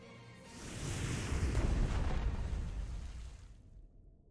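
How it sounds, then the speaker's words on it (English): Torpedoes fired and detonating in Strategic Mind: The Pacific, a broad rumbling burst that swells to a loud, sustained boom-like roar over a few seconds, then cuts off abruptly into silence. "Launch torpedoes!"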